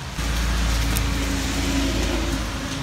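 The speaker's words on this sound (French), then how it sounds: "En ce moment, il pleut." Rain falls outdoors on a dreary day while touring model homes, a steady, dense hiss that fills the scene, with a low constant rumble underneath.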